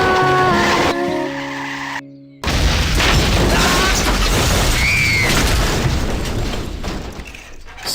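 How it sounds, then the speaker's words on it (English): A car in a road-safety advert skids and slams into a wall: a sudden loud crash and boom, a brief drop to near silence, then a noisy rumbling aftermath with a short squeal, and no voices. "The man swerves into a wall and crushed all the children"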